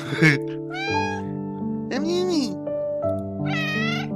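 A cat meows close by several times in drawn-out, rising and falling cries, over a steady background of game music tones.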